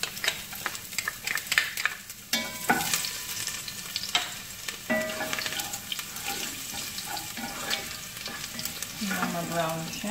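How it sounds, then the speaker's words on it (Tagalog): Garlic dropped into hot oil for monggo crackles and sizzles steadily, with scraping stirs and spatters, close and without talk. "painitin muna natin ang mantika bago ilagay ang bawang. Lagay na natin ang bawang."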